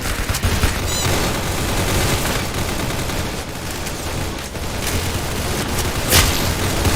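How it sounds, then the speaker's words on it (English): Rapid burst fire from a Nerf Strike video game rattles loud and dense, with volleys of sharp cracks running almost without pause and a few heavier booming hits. "Why am I burst firing?"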